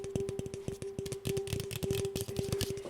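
Drink koozie squeezed and rubbed by hand, giving a dense run of soft crinkly scrunches and squeaks in an irregular rhythm, close and steady over a faint constant hum.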